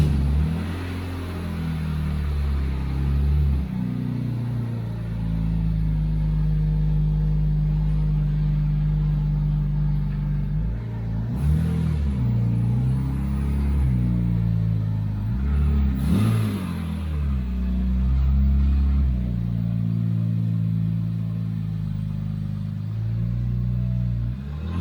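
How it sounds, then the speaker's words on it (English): A car engine runs steadily at close range as the car is driven out of a garage, with low rumbling and slight rises in revving and a few brief clunks partway through. "One of the first things is for Aiden to move his car out"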